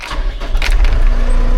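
A tractor engine runs steadily at a constant pitch, with a deep low rumble that is loud and close and has no talk over it.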